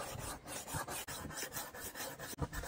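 Silver spatula being sharpened on a rolling knife sharpener, a steady close rasping and grinding with repeated back-and-forth strokes and brief gaps between passes.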